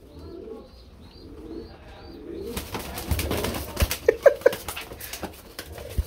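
Pigeons at a seller's stock coo softly in low repeated calls, then a louder stretch follows with wing flutters and shuffling patter close by.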